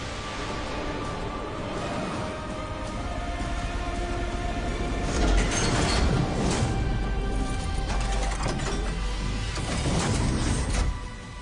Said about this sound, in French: Cet aspirateur à l'arrière de la machine contribue à l'efficacité de l'autolaveuse.